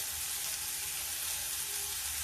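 Steady sizzle of a hot pan as red chili powder and turmeric go in while cooking baingan bharta, a continuous hiss with no voices.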